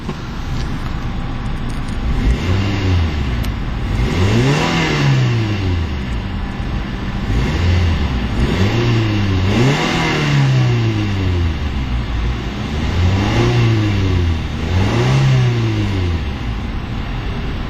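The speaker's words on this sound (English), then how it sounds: "let's go ahead and take a listen to that little 4-cylinder and see what it sounds like." A 2011 Mazda 2 Sport's small four-cylinder engine revs up and down repeatedly, pitch rising and falling in smooth waves, steady and fairly close.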